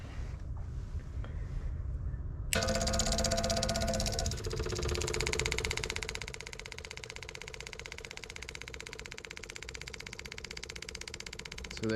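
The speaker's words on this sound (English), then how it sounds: "this pump right here is really putting out some power" An electric liquid transfer pump with a stiff hose in a tank starts abruptly after a quiet lead-in, giving a loud steady motor whine and buzz that settles slightly lower and keeps running continuously.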